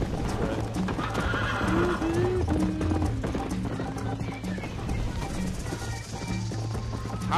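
Several horses gallop in a race in Red Dead Redemption, hooves drumming loudly and continuously with whinnies rising over the pounding, while voices talk above the noise.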